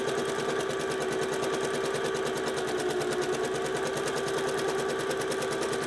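A sewing machine stitches circus tent fabric on a small work bench, running at a steady, fast, rattling hum throughout, close and loud, with no voices.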